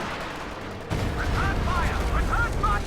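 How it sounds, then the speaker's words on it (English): A B-4 howitzer fires in a video game: one heavy, booming blast cuts in and leaves a sustained low rumble, while a voice talks over it. "Arya Stark continues to keep that B4 firing"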